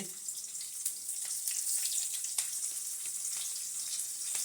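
Onion frying in hot oil with a bright, steady sizzle and scattered small pops and crackles, close and continuous.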